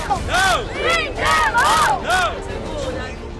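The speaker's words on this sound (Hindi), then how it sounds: "ये भीड़ न सिर्फ बंधकों को वापस लाने की मांग कर रही है बल्कि नेतन्याहू से इस्तीफा देने को कह रही है" Crowd of protesters in Israel demanding Netanyahu's resignation: many voices chanting in loud rhythmic bursts, rising and falling in unison with cheering between chants.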